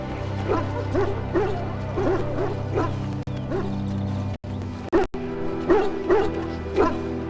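Hounds in Dragon Age: Origins bark and whimper in repeated short yelps and whines over a steady low game ambience. The sounds come in a choppy rhythm and break off briefly near the middle, with no voices.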